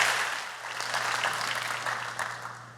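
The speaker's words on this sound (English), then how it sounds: "I'm happy you clap for me" Audience applause for a lecturer at an annual evening lecture on racism in post-racial America, a steady dense clapping from a crowd over a low hum, tapering slightly toward the end.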